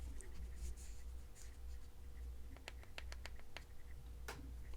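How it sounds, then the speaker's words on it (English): Button clicks on an RGB sound-activated level-light controller: a handful of sharp, quiet clicks, roughly four in a loose sequence, over a steady low background hum with no talk. "click the up button 4 times"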